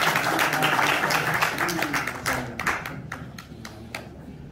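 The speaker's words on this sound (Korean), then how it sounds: "큰 박수 부탁드리겠습니다" Seminar attendees give a speaker a big round of applause. The clapping starts dense and loud, then thins to scattered individual claps as it fades, with faint talk underneath.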